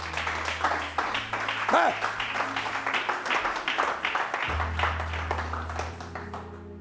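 A church congregation applauds God during a sermon, a steady patter of clapping that runs under a preacher's voice and a low sustained organ or keyboard tone.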